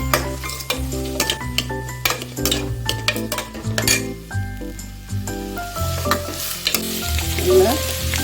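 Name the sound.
onion and crushed garlic sautéing in oil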